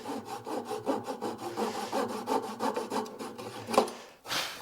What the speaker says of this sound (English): We'll glue this pin in, and we're just going to saw it off just slightly above the surface.